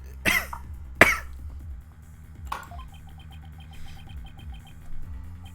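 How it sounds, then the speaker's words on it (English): A person coughs sharply twice in close succession, then once more more softly, each burst loud and close, over a quiet background with a faint steady hum and insect-like chirping. "Ah, I'm coughing."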